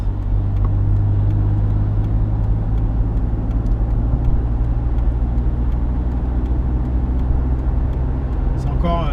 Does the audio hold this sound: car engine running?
yes